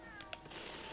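A cat meows in the LEGO Harry Potter video game, a short tonal call over steady game background sound.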